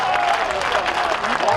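Loud, dense applause from a kabaddi tournament crowd in Canada, continuous clapping filling the whole moment with a voice over the top.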